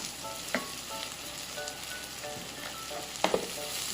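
Okra frying in a pan with sambal paste crackles and sizzles in a steady bright hiss, with a few sharp pops and occasional scraping stirs, fairly faint and close.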